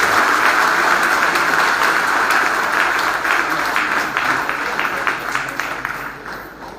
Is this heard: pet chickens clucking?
no